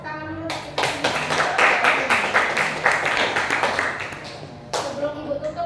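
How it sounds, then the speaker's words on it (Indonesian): Schoolchildren in a classroom clap together after a lesson on magnets, a quick rhythmic burst of sharp, close claps that stops, then resumes briefly, with children's voices and a teacher talking around it. "Tepuk tangan dulu."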